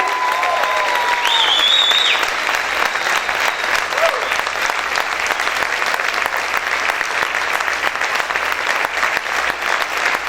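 A church congregation claps loudly and continuously during a worship service, a dense, even roar of applause lasting the whole time with a few shouts near the start.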